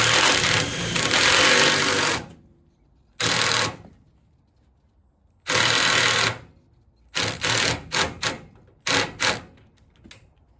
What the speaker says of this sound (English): I am just tech screwing these as a temporary measure